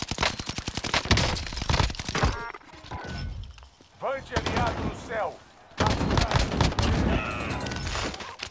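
Rapid bursts of automatic gunfire in a video game, loud and close, with dense volleys at the start and end and a brief lull in between where a voice speaks.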